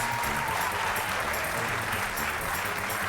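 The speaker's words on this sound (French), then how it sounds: "Elle a gagné, on peut l'applaudir fort." TV game show studio audience applauding a winning contestant, a steady, full burst of clapping throughout with a low, rhythmic backing underneath.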